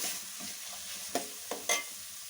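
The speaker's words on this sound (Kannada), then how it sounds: "ಹೀಗೆ ಫ್ರೈ ಆಗಲಿ" Rice frying in a pan for street-style fried rice, a steady broadband sizzle with a few sharp scraping knocks from the stirring spoon near the end, close and alone with no voices.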